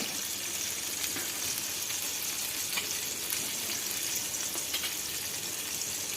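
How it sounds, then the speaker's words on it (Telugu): Salted dried fish frying on a low flame gives off a soft, even, continuous sizzle close by, with faint crackles and no speech. "సిమ్లో పెట్టుకొని ఫ్రై చేసుకుంటే చక్కగా వేగిపోతాయండి"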